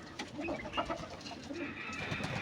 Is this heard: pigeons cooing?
yes